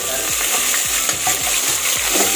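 Food fries in hot oil with a loud, constant sizzle and crackle, broken by soft rhythmic scraping of stirring.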